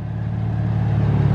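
A BMW 135i fitted with a quad exhaust idles steadily up close, a deep, even rumble with a low-pitched drone and no talking over it.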